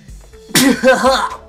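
A single sharp sneeze bursts out after a short quiet lead-in, followed at once by a voiced exclamation trailing off, loud and close.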